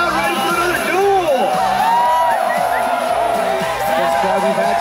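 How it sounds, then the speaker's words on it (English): At a women's freestyle dual moguls event at Deer Valley, the ski crowd keeps up loud, continuous cheering with rising whoops and shouts, a lively roar of many voices with a pulsing beat underneath. "Here's the crowd ready for another duel."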